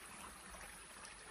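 Small stream on a rural farm running low after weeks without rain, trickling with a faint, steady, continuous wash of water throughout, with no voices.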